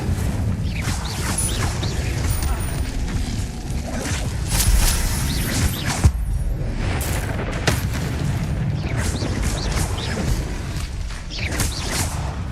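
An Incendio fire spell is cast repeatedly in Hogwarts Legacy, a dense, continuous roar of crackling bursts and booming flame with scattered sharp pops throughout.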